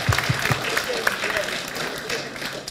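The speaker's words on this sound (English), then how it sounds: "can you do the applause again now they're standing here" A conference audience at an open source event claps steadily throughout, a dense wash of hand claps with a few voices mixed in.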